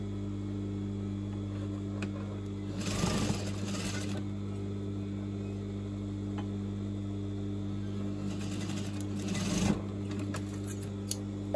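A sewing machine stitching lined curtain fabric runs in two short bursts of fast, whirring stitches over a steady background mains hum, with quiet clicks and handling sounds in between.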